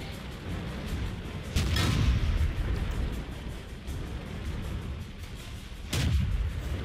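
Tank guns fire in the World of Tanks game, two heavy booming shots a few seconds apart over a constant low engine rumble, loud and close.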